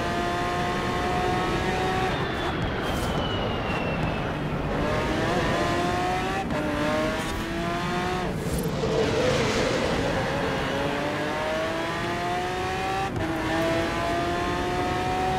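A car engine in the racing game Forza Horizon 4 revs continuously and loudly, climbing in pitch through repeated gear changes with brief drops between shifts, with no talk over it.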